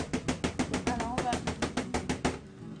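A dish of raspberry, pistachio and combava cream tapped about fifteen times in a quick, steady rhythm on a surface to smooth it, the knocks close and clear, followed by a brief quiet at the end.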